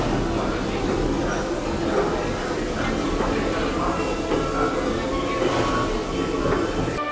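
Train noise at the Big Thunder Mountain station platform at Disney: a continuous broad rumble and rattle, fairly loud and steady, with people talking over it.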